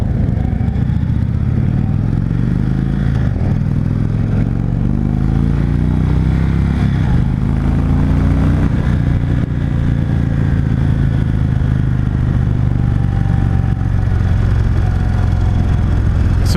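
A 2016 Indian Chief Dark Horse motorcycle, a huge cruiser of about 750 pounds dry weight, on a test ride: a continuous loud low engine rumble with rising and falling pitch as it accelerates and shifts, mixed with wind noise.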